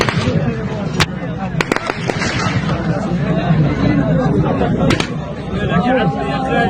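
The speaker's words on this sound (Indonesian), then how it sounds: "Warga Gaza harus berlindung menghindari hujan tembakan yang dikeluarkan tentara pendudukan Israel saat antre bantuan kemanusiaan" Gunfire in Gaza as people queueing for humanitarian aid take cover, sharp bangs and cracks at irregular intervals over a loud hubbub of crowd voices and shouting.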